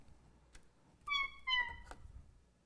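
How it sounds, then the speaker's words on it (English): The Funny Cat button on a vintage synthesizer gives two short, quiet electronic meows in quick succession against near silence. "it has a button labeled Funny Cat"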